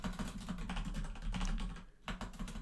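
Rapid, continuous clicking of keys on a computer keyboard, close and steady with brief irregular pauses.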